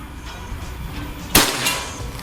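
A single sharp crack from a PCP Predator air rifle fitted with an upgraded slug barrel, fired on a 50-metre accuracy range; one loud close report stands out against quiet background.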